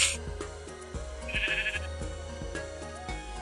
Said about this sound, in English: that's an Enderman talking